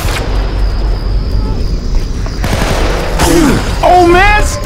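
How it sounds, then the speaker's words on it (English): Video game gunfire aimed at the player in an escape scenario: bursts of shooting and impacts rumble throughout while a voice speaks over them near the end. "Oh man, stop shooting me!"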